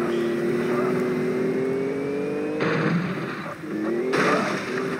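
A bus engine in the video game Extreme Water Floating Bus Simulator drones steadily, its pitch slowly climbing, with two abrupt bursts of louder noise breaking in partway through.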